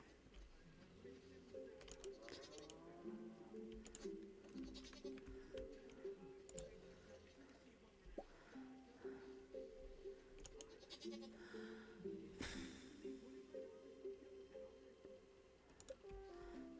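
Goats bleating in the Stardew Valley farming video game, repeated calls over a soft game soundtrack with light clicking, fairly quiet throughout.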